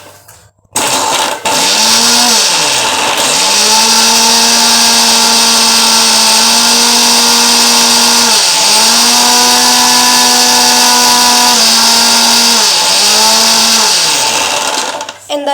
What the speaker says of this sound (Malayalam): അപ്പോൾ നമ്മൾ മിക്സി ഒന്ന് ഓണാക്കാൻ പോവാം